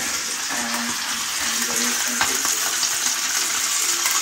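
Loud, steady sizzling of sauce cooking in a pan fills the scene, with occasional clinks of a utensil stirring.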